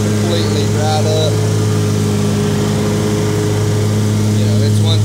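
A large riding lawn mower engine runs at a steady, loud drone throughout, a constant mechanical hum with faint background noise and no clear talk over it.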